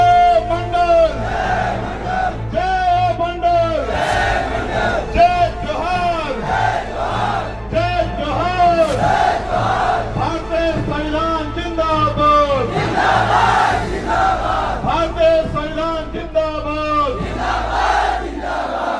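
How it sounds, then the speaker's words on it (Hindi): A large crowd at a political rally in India roars and chants slogans in loud rhythmic unison, voices rising and falling in repeated call-and-response bursts. "सभा में मौजूद भीड़ इस बयान पर तालियों और नारों से गूंज उठी।"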